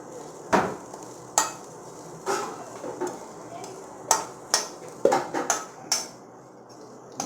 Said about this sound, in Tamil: இந்த டயத்தில் மசாலா ஐட்டம், அதாவது காரப்பொடி, தனியா பொடிலாம் வச்சுருக்கோம் இல்லையா, மஞ்சள் எல்லாத்தையும் சேர்த்து ஒரு கிளறிடுங்க